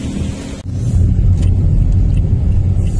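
A car is driven along a Philippine road toward Santa Cruz, its engine and road noise heard from inside as a loud, steady low rumble that swells after a brief dip.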